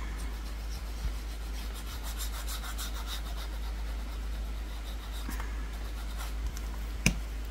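Paper being glued and pressed into a scrapbook album, heard as soft steady rubbing and sliding of paper against paper and card at close range, with a small sharp tap near the end.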